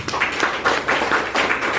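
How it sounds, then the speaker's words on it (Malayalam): A dense crowd of hands claps together at an RCM Tulsi Paints product presentation. The applause holds steady and fairly loud for under two seconds, with small swells in intensity. "ഈ കയ്യടി കേൾക്കുമ്പോ ഒരു സുഖമാണ്."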